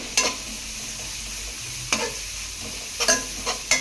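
Vegetables with turmeric frying in a pan, stirred with a spoon; a steady soft sizzle runs throughout, broken by four or five sharp scraping stirs, with no voices.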